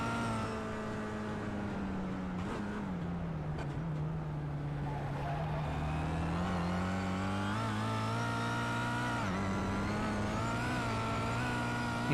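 A touring car engine in a racing video game revs hard and accelerates, a loud, continuous drone whose pitch climbs and dips through gear changes, with a faint voice underneath.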